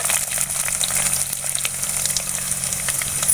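Chana dal, urad dal and ginger sautéing in hot oil, a continuous crackling sizzle held at an even level with small pops, close and without talk.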